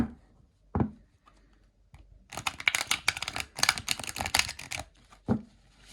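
Tarot cards riffled and bridged in a dense flurry of crisp, papery flutters lasting a few seconds, preceded and followed by a few soft taps, close and fairly quiet.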